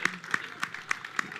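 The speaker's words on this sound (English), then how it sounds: "Give him a round of applause." A short burst of audience clapping at a NAMM trade-show taping, heard as a handful of sharp claps in a steady rhythm, fairly close and moderately loud against a quiet background.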